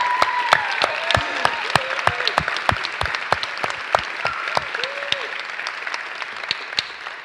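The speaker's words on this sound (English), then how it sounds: "Give them a round of applause." Crowd applause at a spring commencement ceremony honoring graduating parents, sustained clapping with sharp individual claps close by, joined by scattered whoops and cheers across the room.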